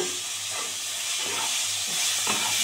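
Tomatoes sizzle as they are dropped into a pan of frying eggplant and green chilies, a loud steady hiss with faint stirring pulses and no voices.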